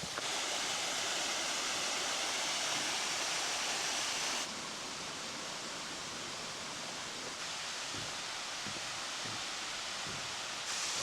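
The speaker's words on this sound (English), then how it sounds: "hiking next to running water" Running water of a stream beside a hiking path, a steady loud broadband rush filling the whole stretch, with a few faint low thumps near the end and no talk.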